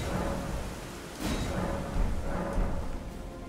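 Thunderstorm weather in the game Elden Ring: steady rain hiss with a couple of low rumbles of thunder rolling through, heard alone with no talking.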